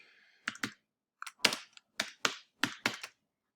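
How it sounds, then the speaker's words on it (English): Keys on a computer keyboard tap out a short line of text, roughly nine crisp, separate clicks in uneven bursts, close and fairly quiet against an otherwise silent room. "typing in a little bit of text like so"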